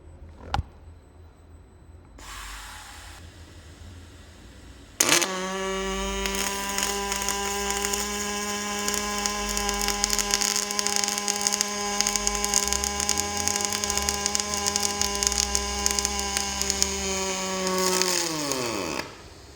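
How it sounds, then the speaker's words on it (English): Robotic arc welding of a workpiece, a click and short buzz, then about fourteen seconds of loud, steady crackling, buzzing arc that cuts off abruptly, with no talking. "I'm going to hit play and we're going to weld it out."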